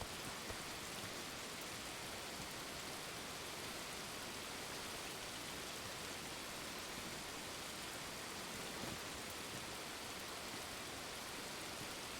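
Steady, dense rain hiss fills the whole stretch in Arma Reforger, a broadband wash of drops falling evenly on surfaces with no letup, fairly quiet and unbroken by any voice.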